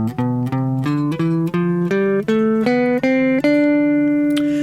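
Notes of a minor scale played one after another on guitar, each plucked tone ringing briefly before the next in an even ascending run, clear and close with no talking.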